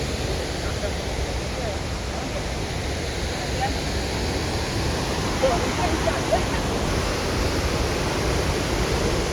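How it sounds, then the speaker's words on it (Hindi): The Krang Shuri waterfall, a large cascade, gives off a steady, loud, broadband roar of falling water that stays constant throughout. "तो पानी इधर ऊपर से पानी आता है और बहता है नीचे"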